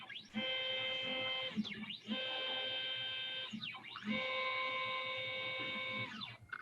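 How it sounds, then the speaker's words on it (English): A CNC machine's stepper motor whines at a steady pitch, winding down and back up in three cycles, each drop a brief sweeping slide before the tone settles again. "the motor accelerates and decelerates"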